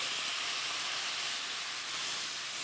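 Wine splashed into a hot pan with blackened mahi mahi and torn basil sizzles as a steady, dense hiss, continuous and even for a couple of seconds with no voices.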